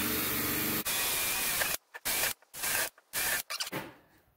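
A Ryobi power drill whines loudly at speed in a garage workshop, running steadily for almost two seconds before several short bursts of trigger pulses with gaps of silence between them.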